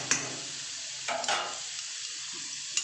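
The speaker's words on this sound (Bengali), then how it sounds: "একটু ভাজা ভাজা হয়ে যাক" Papaya pieces sizzle steadily in hot oil in a pan, a spatula stirring them with a couple of brief scraping bursts, close and moderately quiet.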